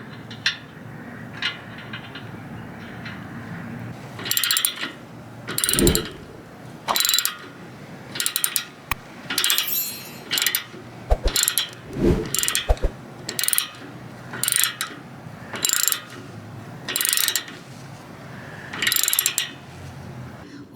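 Ratchet clicking in repeated short bursts while tightening the oil drain plug on a Harley-Davidson Fat Boy motorcycle, close and clear, with brief pauses and a few dull knocks between strokes.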